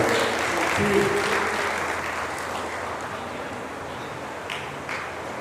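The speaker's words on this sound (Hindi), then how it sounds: "जोरदार तालियों से उनका अभिनंदन करें।" Loud audience applause welcoming Naidu sir at a ceremony, a thick, sustained clapping from a large crowd that starts strong and gradually tapers while staying continuous.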